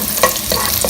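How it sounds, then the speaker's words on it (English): Garlic sautéing in a pan for a lomi noodle dish, a close, brief crackling sizzle with a few soft stirring scrapes, no talk. "we'll start to saute the garlic and the onion"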